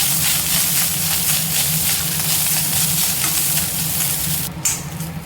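Grated coconut sautéing in a pan on a slow flame, a steady close sizzle and frying crackle with faint stirring scrapes, running continuously and easing off briefly near the end.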